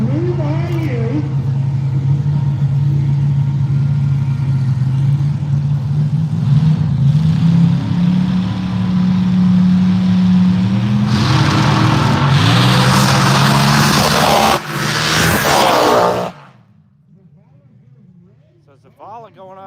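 Top Alcohol and Alcohol Funny Car drag racers roar on the strip in a loud, sustained engine drone that swells and surges, then cuts off abruptly into quiet, with an announcer talking over it.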